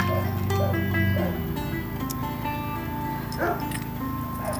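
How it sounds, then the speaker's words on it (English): Several dogs bark in quick, repeated yips and woofs close by, over a steady droning background. "The dogs are just barking like crazy too."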